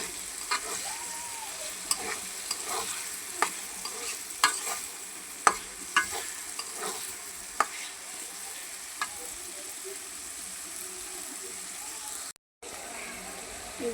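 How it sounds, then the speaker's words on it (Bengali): Onions fry in a pan with a constant soft sizzle, punctuated by regular clicking taps of a stirring utensil against the pan, close and fairly quiet. "এই যে পেঁয়াজটা আমার ভাজা হয়ে গেছে।"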